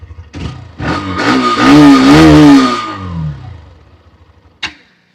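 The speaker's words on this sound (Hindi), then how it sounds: "एग्जॉस्ट नोट आपको हम एक बार सुना देते हैं बाइक का" A Hero Xtreme 125R motorcycle engine revs up loudly, its exhaust note rising and falling once before settling to idle, followed by a single sharp clack.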